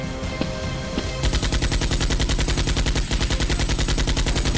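Nerf guns firing in a staged Nerf war in a villa, a rapid, steady stream of dense repeated shots, loud and continuous after a brief quieter lead-in, with no talk.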